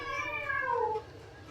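A stray cat gives one drawn-out, falling meow, close and clear, with no voices over it.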